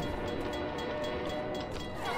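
A train rumbling past in the video game Left 4 Dead, a continuous dense roar that fills the moment at steady loudness.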